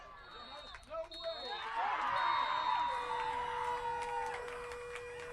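Spectators at a women's college soccer match, Capilano at VIU, swell into cheering and whooping over a few seconds, then fade into a lingering whistle-like tone while a commentator talks.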